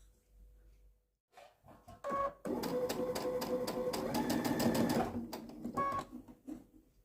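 A sewing machine stitches fabric strips for a courthouse steps quilt, running in a steady rapid whir for a few seconds, with soft handling sounds before and a brief restart after.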